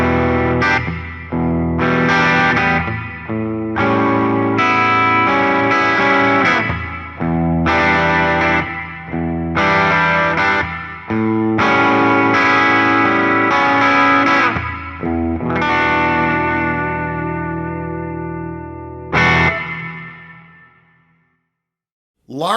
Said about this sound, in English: Large room reverb. Warm sounding reverb heard in larger rooms such as nightclubs.